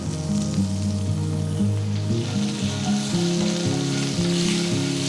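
Curry leaves and asafoetida sizzle in hot oil with roasted peanuts in a pan, a steady hiss that runs throughout beneath louder melodic background music.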